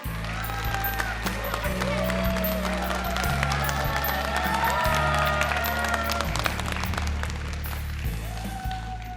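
Audience applause at a Buddhist expo open studio welcoming a monk to the stage, sustained clapping over a low musical drone, with faint chatter and voices mixed in.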